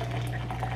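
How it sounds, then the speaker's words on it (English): Hot water pours from a kettle into a travel mug for tea, a soft, steady liquid rush with a low hum underneath, quiet and close, no voices. "I almost just poured hot water into the honey container. It's supposed to go into my travel mug."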